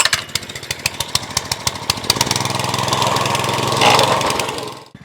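A plate compactor's small gas engine, with fuel on, choke set and throttle about halfway, fires on the pull and chugs in rapid close pulses, then smooths into a steady loud running drone before cutting off abruptly at the end.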